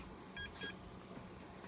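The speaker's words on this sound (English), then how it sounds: "beeping at startup, which must mean there's a BIOS setting enabled" A Dell Precision T3400 workstation gives two short electronic beeps at startup, faint over a steady fan hum.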